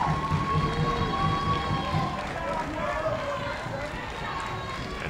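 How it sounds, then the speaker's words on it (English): A crowd at a Little League World Series regional baseball game applauds and cheers a departing Alabama pitcher, a dense, loud wash of clapping and shouts that stays steady throughout, with an announcer talking over it. "he is going to get a huge round of applause"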